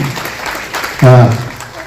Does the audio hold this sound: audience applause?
yes